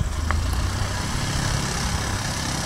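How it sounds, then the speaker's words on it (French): A Piper light aircraft's piston engine drones at an airfield as it readies for takeoff, a steady low rumble heard from some distance amid outdoor noise. "Ah, voilà un petit avion qui va décoller."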